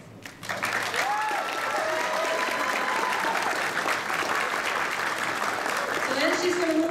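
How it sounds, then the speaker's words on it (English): A crowd at a Gen Con costume contest cheers and applauds for a costumed group, a dense, loud, sustained roar of clapping and shouts with whistles and voices rising through it. "Cheer if you think this group should be our best in show"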